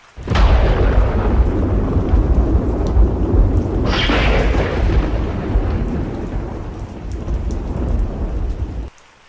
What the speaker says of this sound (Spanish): La habitación se sacudió con el estruendo